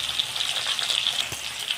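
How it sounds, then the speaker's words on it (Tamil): Small onions sautéing in sesame oil with curry leaves and popped mustard seeds for pirandai thokku, a steady soft sizzle with a faint thump near the end, no talking. "சின்ன வெங்காயத்தை சேர்த்து நல்லா வதக்கிக்கலாம்"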